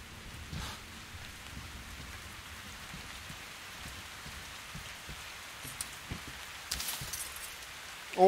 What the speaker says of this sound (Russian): Вот он и дождик.